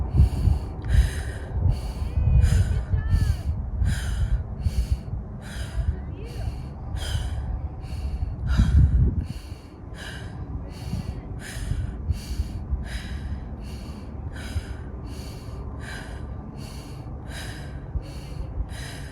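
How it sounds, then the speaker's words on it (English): Rapid, rhythmic rounds of forceful breathing from a healing breathwork technique, about twenty quick inhale-exhale cycles in a steady pulse, close and clear, with heavier, noisier breaths in the first half that settle into lighter, regular puffs. "this is a healing breathing technique. You do 30 rounds of,"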